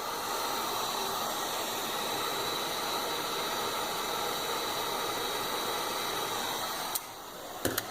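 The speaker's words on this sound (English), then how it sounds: "handy heat gun, soften the plastic" A heat gun softening plastic during a BMW N54 fuel pump install, a steady loud blowing hiss that runs throughout, with a couple of brief clicks near the end.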